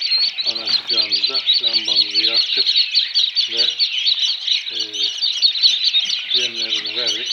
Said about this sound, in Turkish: civcivlerimizi şu anda yerlerine yerleştirdik